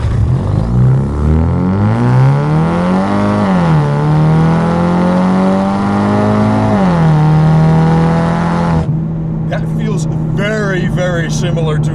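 A 2016 Ford Mustang EcoBoost with a 6-speed automatic in sport mode roars loudly up through the revs from a stoplight, pitch climbing and dipping at two upshifts, then the engine note fades under a voice.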